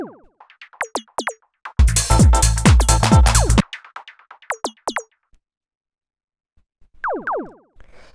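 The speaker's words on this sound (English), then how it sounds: "you can hear it's like this little bell sort of sound and then this little zap" Synth operator percussion plays sparse, short bell-like pings and quick downward zaps in a minimal funky house groove, with one brief dense burst in the middle and a pause before a final zap.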